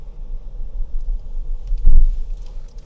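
A big 2026 Lexus LX creeps downhill off-road with its center diff lock engaged, giving a low, steady engine and drivetrain rumble that swells briefly to a heavier thump near the end.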